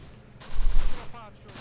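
A machine gun in the Close Combat war game, a loud burst of rapid gunfire over a low battlefield rumble after a quiet start.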